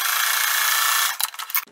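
A sewing machine stitching quilt fabric pieces runs with a loud, steady whirring hum for about a second, then stops and gives way to brief fabric rustling and handling noises.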